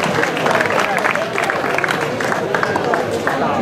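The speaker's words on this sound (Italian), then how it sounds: "Un applauso per il grande Loris." Crowd applause at an outdoor prize-giving for a hill-climb race winner, a steady wash of clapping with voices and chatter mixed in throughout.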